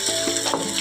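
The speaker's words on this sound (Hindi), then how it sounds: "ये थोड़े से आलू जब हो जाएंगे ना फ्राई इसी ऑयल के अंदर" Potatoes and onions fry in oil for aloo bhujia, a steady, close crackling sizzle with small pops and no talking.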